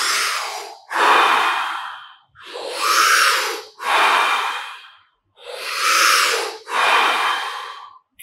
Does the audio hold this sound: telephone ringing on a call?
no